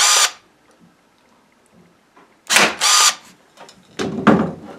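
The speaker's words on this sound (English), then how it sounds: "Now I'm going to take my nail gun and depress, push down a little bit to trigger the nail." A nail gun fires into the corner of a floater frame moulding, giving a few sharp, loud bursts close by with short mechanical clatter and quiet gaps between shots.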